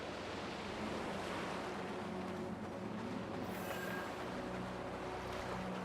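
Wind sweeps along a path in Banishers: Ghosts of New Eden as a steady, full roaring rush, a constant airy wash with no talk.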